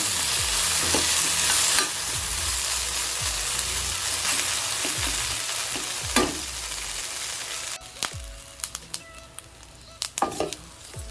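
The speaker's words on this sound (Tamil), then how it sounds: "நல்லா வதக்கி விடலாம்" Raw plantain slices for a crispy fry sauté in a pan, with a continuous sizzle and repeated scraping stir strokes. Sharper utensil clatter comes toward the end, and nobody speaks.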